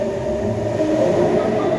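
A passenger train pulls away from a station platform with a steady, loud rumble of wheels and motors close by, an unbroken low drone with no voices.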